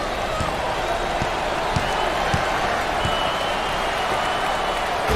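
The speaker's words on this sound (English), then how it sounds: "Teammates love it. They applaud." Teammates applaud in a basketball video game: a steady wash of clapping and crowd noise runs throughout, punctuated by a few hard ball bounces or thumps.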